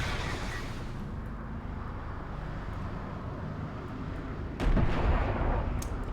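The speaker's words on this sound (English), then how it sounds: "Second cruise missile missed." Video game cruise missile launch and blast: a steady low rumble runs throughout, then a sudden loud impact about two-thirds of the way in, followed by a sustained roar with a couple of sharp crackles.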